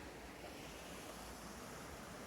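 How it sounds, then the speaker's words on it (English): A small river flows beside a campsite in Slovenia, a faint, steady rushing wash of water with no voices. "a lovely little river"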